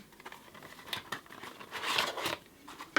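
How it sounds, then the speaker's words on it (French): Scissors snip and crinkle through the plastic packet of artisanal honey-coated pecans from Finca La Rosala, a few soft close cuts with rustling wrapper, quiet and alone. "j'avais prévu les ciseaux"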